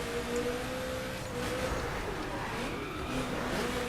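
A car's engine drones at high revs in the racing game The Crew during a time-attack run on the Summit track, steady and loud with slight pitch shifts and faint tire squeal.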